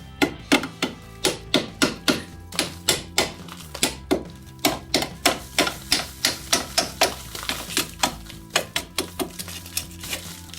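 A pneumatic air hammer punches out a lower ball joint on a 2006 Ford Focus, firing in rapid, sharp metallic bursts, about two to three hits per second, loud and close with no talking.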